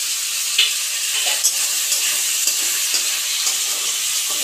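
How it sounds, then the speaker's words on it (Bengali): Chili chicken and chili pieces fry in a pan with a steady, close sizzle, broken by regular soft scrapes and clicks as the mixture is stirred. "3-4 মিনিট একটু ভালো করে ভেজে নেব"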